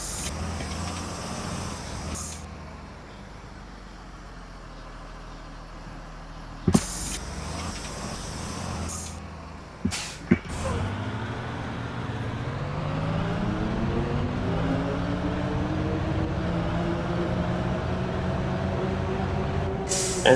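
A bus in a bus driving video game releases its loading brake with a sharp burst of air, followed by more hisses and a steady engine hum that rises as the bus pulls away.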